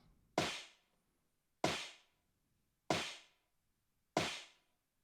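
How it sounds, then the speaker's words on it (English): A reversed sniffing sample from Peter McKinnon's voice serves as a snare punch, giving four evenly spaced, airy, breathy bursts. Each one is sharp at the front and fades quickly, with near silence between them. "the noise from the snare punch is actually the sniffing sample, but in reverse"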